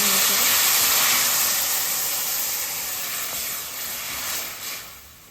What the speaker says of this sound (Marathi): गरम पाणी ओतूया.